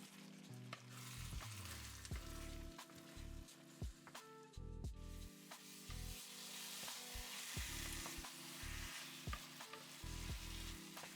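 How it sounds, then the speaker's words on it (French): Eggs are stirred constantly with red peppers in a scorching-hot frying pan for a Balkan scrambled-egg breakfast. A steady sizzle sits under repeated scraping and stirring strokes, close up, with no talking. "il faut mélanger constamment, sinon l'œuf au contact de la poêle brûlante va cramer"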